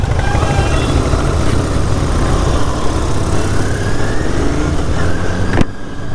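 A Royal Enfield GT 650 idles through an AEW TE 102 exhaust, a steady, loud, close rumble that holds evenly for several seconds before cutting off abruptly near the end.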